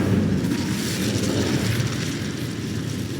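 An Incendio fire spell is cast in Hogwarts Legacy, producing a loud, steady roaring whoosh of flame that holds evenly throughout with a deep rumbling body and no talk.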